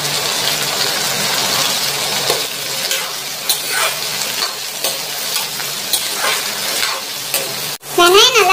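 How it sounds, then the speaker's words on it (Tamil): Onions with garlic and green chillies sautéing in a pan, a steady loud sizzle with spatula stirring scrapes throughout, a sharp knock near the end. "வெங்காயம் கொஞ்சம் வதங்கினோடனே இதில் பூண்டு சேர்த்துக்கலாம்"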